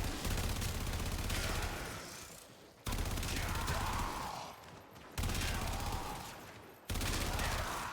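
Sustained bursts of AX-52 fire with blast procs from Warframe, four long loud volleys of rapid booming shots, each trailing off before the next burst cuts in sharply, with no voice over them.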